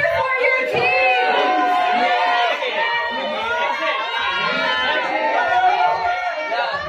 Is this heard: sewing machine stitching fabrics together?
no